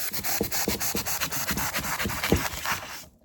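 A saw rasps through foam in quick, steady back-and-forth strokes, close by, with no one talking.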